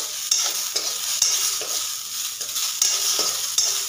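Onions fry in a pan while being stirred, a bright continuous sizzle broken by regular scraping strokes of the spoon roughly every half second, close and fairly loud, with no talking.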